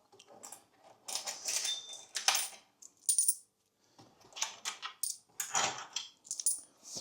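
Coins clatter and drop in bursts from an old Golden Nugget slot machine paying out winnings, with a short pause midway before more metallic jingling resumes.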